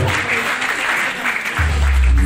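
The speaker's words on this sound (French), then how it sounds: "Est-ce qu'on peut bien l'applaudir, s'il vous plaît?" A crowd claps steadily throughout at an awards ceremony, with the applause swelling louder toward the end; no voices stand out.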